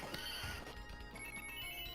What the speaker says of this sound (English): And we've got a horse.